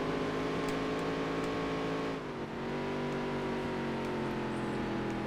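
A race car engine in the Dirt to Daytona video game holds a loud, steady high-rpm drone, with a brief dip in pitch around a downshift before climbing back up, no voices.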